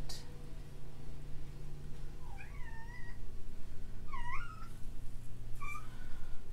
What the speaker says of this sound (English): There's my cat again, trying to get in.